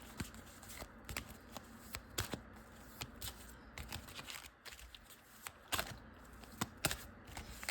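Tarot cards are shuffled by hand nearby, giving a quiet run of irregular flicks and soft slaps with brief pauses.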